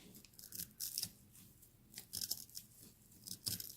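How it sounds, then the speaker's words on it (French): Scissors cut horsehair flat in a few quick, crisp snips and crunchy rustles, close and fairly faint, spaced irregularly over a few seconds with no voices. "je vais commencer par couper bien plat."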